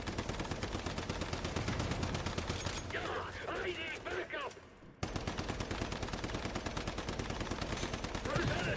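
Rapid automatic gunfire in the video game Warhammer 40K Rogue Trader, dense continuous bursts that stop briefly for a couple of seconds of muffled effects and then resume just as steadily.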